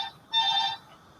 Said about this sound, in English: These freaking people just ring the wrong freaking bell.